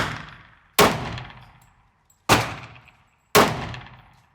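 Three loud, close pistol shots from a Smith & Wesson M&P 10mm, fired singly with about a second and a half between them, each a sharp crack trailing off into a ringing echo.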